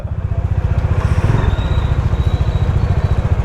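A Bajaj Dominar motorcycle engine idles close up after silencer repair, a steady, even low thumping putter, running smoothly and loud with no voices.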